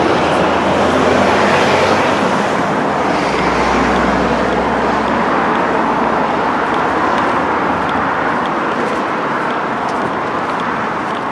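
An Arriva Trains Wales class 158 diesel train arriving, a loud broad rumble and roar filling the scene with a low engine drone that shifts partway, sustained and close throughout.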